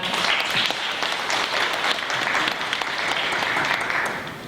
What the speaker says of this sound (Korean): 모두 큰 박수 한번 부탁드립니다